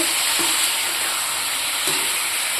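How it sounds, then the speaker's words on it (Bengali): Loud, continuous frying hiss of chicken frying with spiced potatoes, with a couple of soft scraping stirs, steady and close throughout. "এখন আমি এই মাংসটা ভাজা করে নেব"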